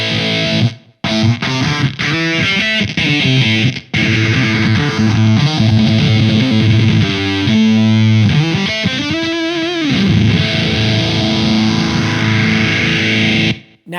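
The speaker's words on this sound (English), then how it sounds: "Now, you can probably hear the phaser in there a little bit in the background." A heavily distorted, fuzzy electric guitar through a Way Huge Atreides pedal with a phaser plays loud chords and riffs, with a slow sweeping phase effect and a few brief stops.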